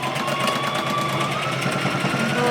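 A sewing machine runs in a quick, steady mechanical rhythm while back stitching a cloth face mask, close and continuous with a faint whine on top.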